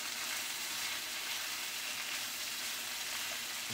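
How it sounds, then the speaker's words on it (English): Shallots stir-fry in a pan with coconut oil, making a faint, even, continuous sizzle with no talk. "We got some shallots. Stir fry those around a bit."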